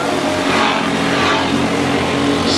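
Junior champ race cars hold full throttle around an oval speedway, producing a loud, continuous engine drone with the pitch holding steady, close by and with no talk over it.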